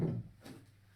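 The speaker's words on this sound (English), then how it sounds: "I'm going to shut the door just a second." A door is pushed shut with a single dull wooden thump, followed by a quiet, fading room tone.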